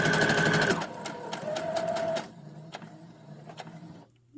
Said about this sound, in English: We're going to stitch all the way to our corner and pivot.